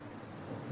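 Rain falls in a Minecraft speedrun as a soft, continuous rushing patter with a faint low rumble, fairly quiet and with no voices.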